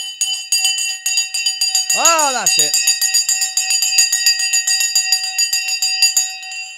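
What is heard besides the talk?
market opening bell ringing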